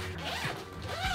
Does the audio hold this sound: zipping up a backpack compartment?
yes